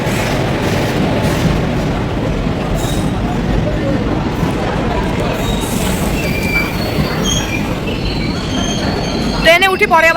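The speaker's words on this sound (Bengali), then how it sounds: "ওই যে আমাদের ট্রেন এখনই চলে আসছে তো এই যে ট্রেন চলে এসেছে" A passenger train rumbles loudly and continuously nearby as it arrives at a station, wheels grinding and squealing on the rails as it comes in, with a high squeal near the end.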